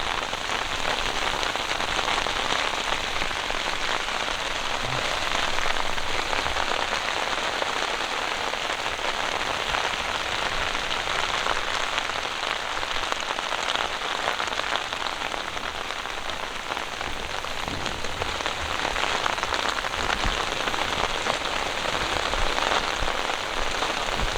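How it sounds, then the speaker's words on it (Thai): Rain pours steadily on surfaces at a seaside campsite on the Korean coast, a dense, even hiss that holds at constant loudness throughout with no talking. "อยู่ดีๆก็ฝนตกครับตายแล้ว"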